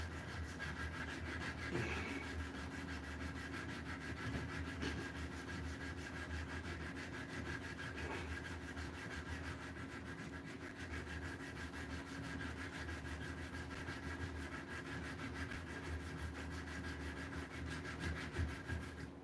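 Sandpaper wrapped around a file used as a sanding stick rubs steadily over wood, a faint, continuous rasping that carries on without a break and without any talking.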